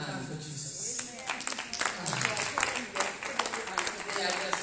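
Scattered applause from a church congregation at a Holy Ghost encounter gathering in the Bahamas, moderately distant, building and fading over several seconds with voices mixed in.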